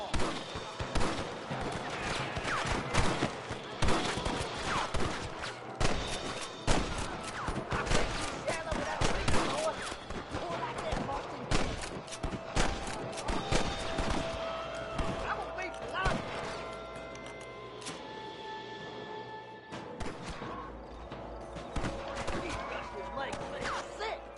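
Gunfire crackles through a Red Dead Redemption shootout, with rapid repeated shots and bursts close and far, dense and relentless for the whole stretch, while voices call out amid the battle.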